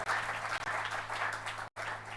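A congregation in a church applauding during a sermon, a dense, continuous wash of many hands clapping at a steady level, briefly cut by a short gap of silence.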